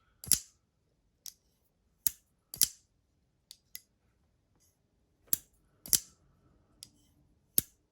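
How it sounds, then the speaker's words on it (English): A CKF Tiger folding knife snaps open and shut with crisp tactile detent clicks, about a dozen sharp, close clicks in irregular pairs and singles separated by near silence. "it has that tactile click-click, kind of like my Sharp by Design Evo Typhoon I had"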